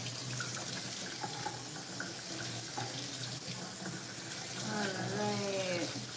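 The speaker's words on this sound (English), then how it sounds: "I like to really rinse off the quinoa that I'm using" Tap water runs steadily into a kitchen sink while quinoa is rinsed, a continuous close splashing stream with a brief gurgling swell near the end.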